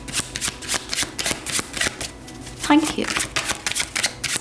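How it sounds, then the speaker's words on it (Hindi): A deck of tarot cards is shuffled in rapid, rhythmic riffling bursts, close and crisp, while someone briefly speaks in Hindi. "तो चलिए शफल करते हैं हम ऑप्शन 3 के लिए"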